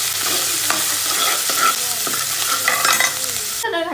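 Onion fries in hot oil for dhaba-style chana dal, a loud continuous sizzle close up with scraping stirs of a spoon against the pan, no talk.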